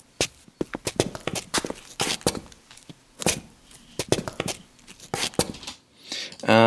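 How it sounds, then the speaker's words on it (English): Footstep effects for a short film teaser mix land as sharp, irregular steps and scuffs, close and dry, scattered in uneven bursts across the scene. "Quite a few tracks, just pure footsteps."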